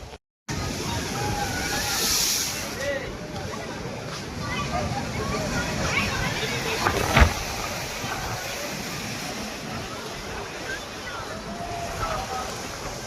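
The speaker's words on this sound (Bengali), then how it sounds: "আজকে দীঘার সমুদ্রে কী অবস্থা দেখো" Rough sea surf at Digha beach, a steady broadband wash of crashing waves and wind noise that runs continuously throughout, with a brief louder surge midway.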